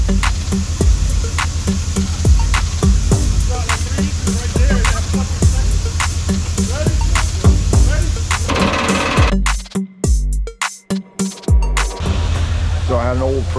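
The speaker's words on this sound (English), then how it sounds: "to start hammering this huge friggin' beam into the ground" A huge beam is driven into the ground with a pile-driving hammer while a boat lift is installed, giving loud, steady, rapid repeated impacts with a deep rumble, then breaking into a few stuttering pauses near the end.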